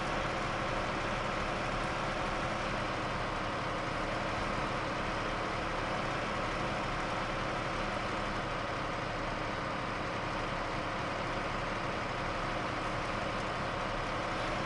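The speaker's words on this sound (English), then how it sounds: "I definitely need a better logging truck" Heavy logging truck engine in SnowRunner, Alaska logging run, a steady low diesel drone with constant rumble, loud and continuous throughout with no talk.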